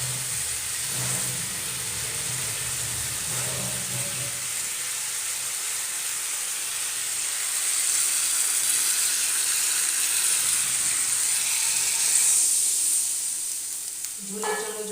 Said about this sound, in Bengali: ঝোলের জন্য জল দিচ্ছি।